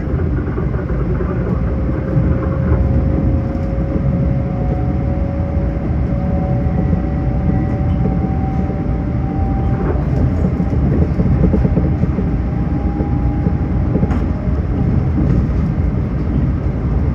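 Steady, loud rumble of a Long Island Rail Road train riding from Long Beach toward Penn Station, heard from onboard, with a continuous low roar and faint tonal whines rising over it throughout.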